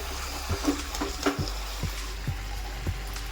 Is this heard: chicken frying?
yes